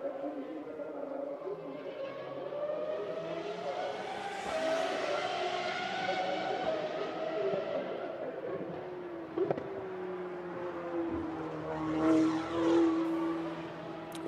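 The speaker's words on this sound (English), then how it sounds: "Here comes the McLaren onto the pit straight, and another glorious noise as it howls past the pits." A McLaren race car howls past the pit straight at a GT1 demonstration race, its engine note rising and sweeping by at a distance, with commentary over it.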